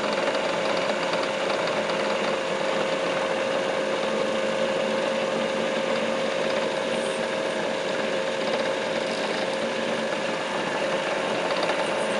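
A drill bit bores into a rock, wetted with water, in a steady, continuous grinding whir that stays even in loudness throughout without any speech.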